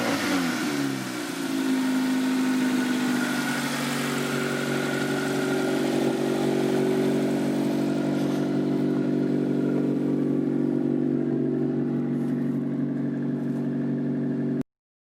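A Nissan Pathfinder engine running steadily after a battery swap, a loud, continuous droning hum with a rough, buzzing tone close to the microphone, no talking.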